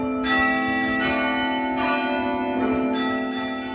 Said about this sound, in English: When you hear the bells ringing on campus each weekday at 5 o'clock,